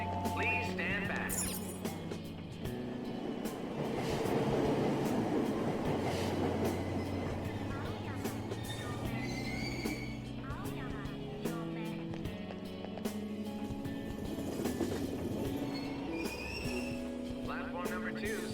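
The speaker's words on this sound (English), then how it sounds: "Platform number 2, service to Asakusa is departing soon." A train departs a platform in Persona 5 Royal with a low rumble and rolling wheel clatter, under a public-address departure announcement and a gentle melodic chime-like tone, heard at moderate level throughout.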